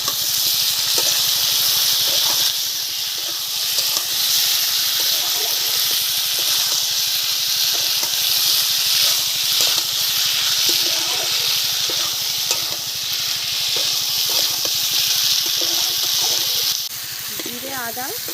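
Steady, loud sizzle of cumin, tomato and ginger paste frying in a pan, a constant bright hiss with occasional stirring scrapes, up close and continuous.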